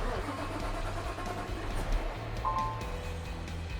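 Cab interior of a moving Peterbilt 579 CNG Class 8 tandem axle truck, a steady low engine and road hum held at a subdued level throughout, with no talking.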